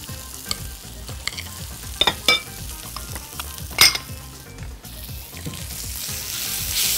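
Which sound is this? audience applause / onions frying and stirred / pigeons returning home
onions frying and stirred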